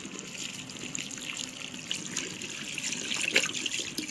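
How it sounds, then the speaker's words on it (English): Water runs from an open tap after handwashing, a soft continuous trickling splash with small fluctuations, fairly quiet and close. "Open the tap."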